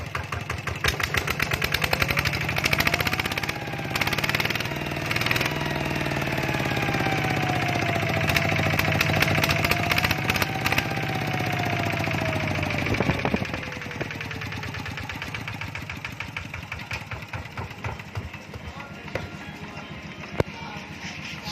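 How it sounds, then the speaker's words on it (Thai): A used small engine is revved hard to full throttle, its pitch climbing and wavering through sustained loud, close revs before dropping back to a knocking, uneven idle with sharp clatters. "นี่นะครับเร่งสุดนะครับรอสุดแล้วก็ เราจะกระชากคันเร่งให้ลูกค้าดูเลยนะครับ"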